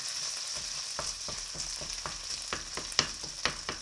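Hash browns frying in a pan while being stirred: a soft continuous sizzle broken by regular scraping and tapping strokes of the utensil, close by and fairly quiet, with no talking.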